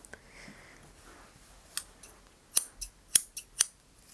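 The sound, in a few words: scissors snipping near hair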